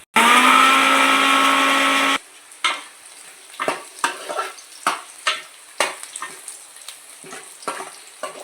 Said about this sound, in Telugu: నానబెట్టుకుని మనం మిక్సీ వేసుకోవాలి.